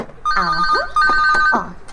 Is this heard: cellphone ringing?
yes